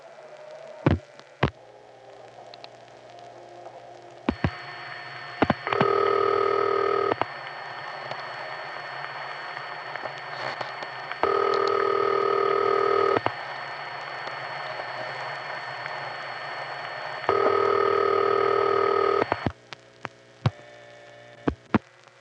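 Tone signals on a 1976 ESS payphone call in Allentown, Pennsylvania: three steady two-tone bursts about two seconds long, spaced evenly over a low line hum, with scattered clicks and short key pulses between them.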